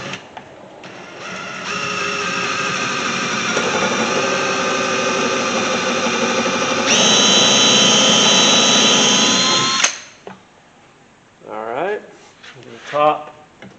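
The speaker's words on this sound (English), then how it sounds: "So I'm going to drill all the way through from the wood into the MDF." A power drill boring through wood into MDF during a box assembly, a loud, sustained whirring grind that rises in pitch partway through and cuts off abruptly, followed by a person speaking.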